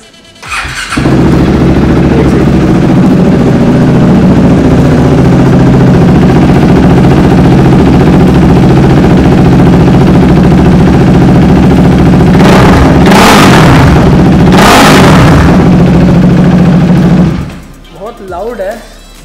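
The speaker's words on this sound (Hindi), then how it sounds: "आखिरी बार इस प्यारे से एग्जॉस्ट की आवाज़ सुन लो." KTM RC 390 motorcycle with an aftermarket exhaust, loud and close, idling steadily with a deep throb, then blipped in two sharp revs before settling and cutting off; people talk over it.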